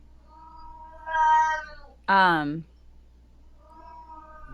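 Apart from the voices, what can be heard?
pet cat meowing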